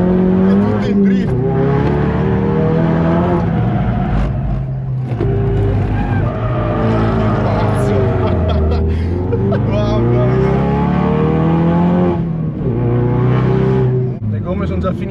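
A car drifting on front tires already worn out, its engine revving hard under loud, sustained tire squeal that rises and falls while people talk over it.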